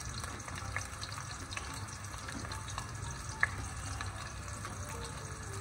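Onion frying in oil in a pan toward golden brown for a chicken masala pulao, a faint steady sizzle with a soft low hum and one small clink midway.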